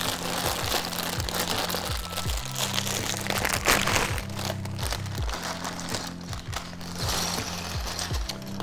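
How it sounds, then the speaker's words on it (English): A plastic parts bag from a Voltron building set is crinkled and crunched up close, a loud, continuous crackling with quick rhythmic crunches running throughout. "crunching sound, crackling sound."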